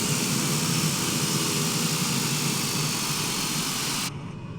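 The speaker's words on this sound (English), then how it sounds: "set the brakes, and cut the engine" A small airplane's engine drones loudly and steadily after landing, then cuts off abruptly near the end, leaving a quieter residual hum.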